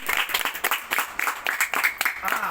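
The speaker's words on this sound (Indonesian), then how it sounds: "Kasih aplaus dulu dong buat dia." A class applauds a student, with short bursts of clapping from several pupils mixed with chatter and talk across the room.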